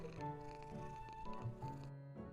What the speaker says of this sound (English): That cat's name is Mrs. Carter.